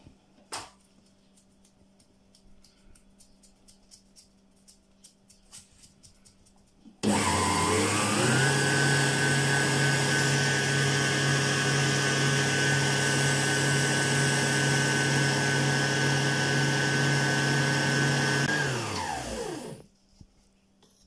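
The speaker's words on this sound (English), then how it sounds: "Then continue whisking until quite thick." An electric whisk beats a marshmallow mixture, its steady high motor whine running loud and unbroken for about twelve seconds before the pitch sinks as it winds down.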